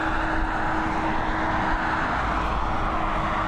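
Aircraft landing at Dublin Airport, a broad, fairly loud jet roar held steady at a distance with a faint hum beneath, no voices present.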